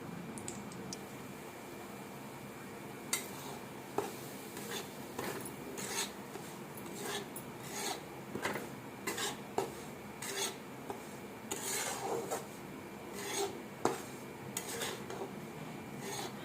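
Semolina (rava) roasting in oil in a pan on the stove for upma, stirred continuously with a spoon, giving steady close scraping and rasping strokes against the metal with occasional sharper clinks, and no talking.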